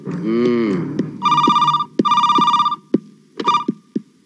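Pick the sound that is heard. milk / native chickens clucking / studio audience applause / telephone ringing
telephone ringing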